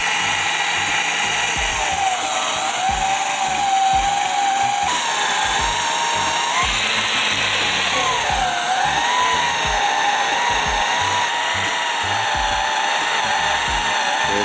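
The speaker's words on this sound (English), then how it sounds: "You gotta turn the drill off." A power drill runs steadily while cutting and shredding chips, giving a loud, continuous whine that wavers in pitch as the load changes, close by and alone for the full stretch.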